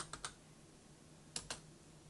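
A few quiet keystrokes on a computer keyboard, two pairs of quick clicks separated by a pause, close over faint background hiss.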